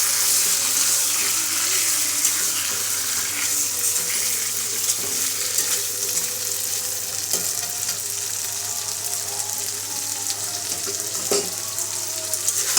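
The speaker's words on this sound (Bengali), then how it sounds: "ভালোভাবে নেড়ে চেড়ে মশলাগুলো একত্রে অর্থাৎ এই তেলের সাথে মাংসটা আমি মিশিয়ে নেব।" Mutton sizzles and crackles in hot oil with spices as it is stirred, a steady bright frying hiss with occasional clinks of a spoon against the pot, close and continuous.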